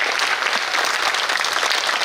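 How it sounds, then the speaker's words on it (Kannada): Applause from a school audience at a government school's anniversary celebration, honouring two teachers; a dense, even wash of clapping hands sustained from start to finish. "ಅವ್ರಿಗೆ ಚಪ್ಪಾಳೆ ತಟ್ರಿ ಇಬ್ರು"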